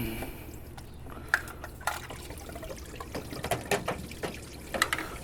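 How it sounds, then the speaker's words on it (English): Engine coolant from a Honda J-series V6 thermostat housing splashes and trickles out in close, uneven bursts of dripping and pouring liquid, with no voices over it. "When you pull this loose, a bunch of coolant's going to come out."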